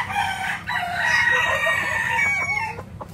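A White General gamefowl rooster crows at a game farm in Taytay, Rizal, on a rainy day: one long, loud, strained call held close by, tailing off into softer clucks.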